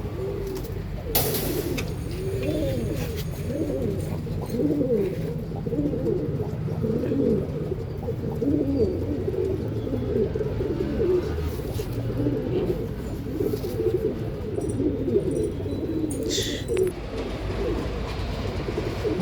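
Flock of pigeons kept for flying, cooing steadily and continuously at close range, many overlapping soft throaty calls forming a dense murmur with occasional chirps over a low background rumble.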